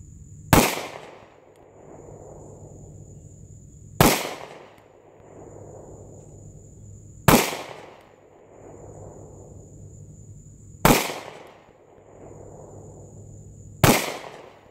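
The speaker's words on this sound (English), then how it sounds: "SIG is by far the best shooting gun I've ever shot." Five loud, sharp SIG P320 pistol shots fired at a steady pace roughly three seconds apart, each with a short echoing decay over a steady background hum; no talking.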